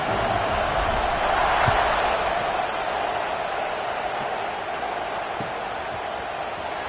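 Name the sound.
stadium crowd buzzing in a college football video game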